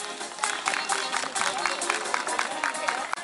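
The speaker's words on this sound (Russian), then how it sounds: "Аплодисменты!" A festival audience in a village setting applauds steadily, dense rapid clapping filling the whole stretch at an even, fairly loud level with a faint crowd murmur beneath.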